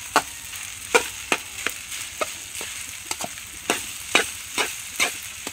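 Rice being stirred in a pan over a low stove flame, with a steady run of sharp scraping strokes at a quick, even rhythm over a faint sizzle. The sound is close by, and no one speaks.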